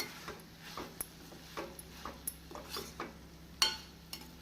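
A spoon stirs grated coconut into a broad bean stir-fry in a pan, making light, irregular scraping and clinking ticks, roughly two or three per second, that stay soft and close.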